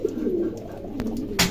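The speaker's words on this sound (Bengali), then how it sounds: "এখানে দুই জোড়া কবুতর আছে" Two pairs of fancy pigeons, including long-face almond birds, give soft, low cooing calls close by over quiet background noise, with a brief sharper rustle near the end.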